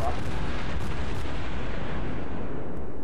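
Naval artillery in the World of Warships video game fires as a heavy, continuous rumbling barrage, loud and dense, with a voice talking over the booming throughout.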